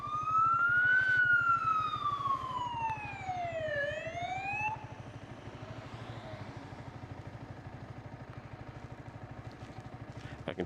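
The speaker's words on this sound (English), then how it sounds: "I hear sirens." Emergency vehicle sirens wail, rising and falling in pitch, heard on a motorcycle ride in New Zealand, loud at first and then fading into a steady engine rumble.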